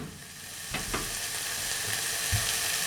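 Homemade bolognese sauce sizzles steadily in a pan while being stirred, with a few scraping strokes of the spoon over the constant, close frying hiss.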